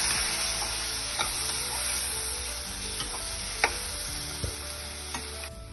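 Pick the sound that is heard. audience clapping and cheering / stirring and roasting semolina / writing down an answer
stirring and roasting semolina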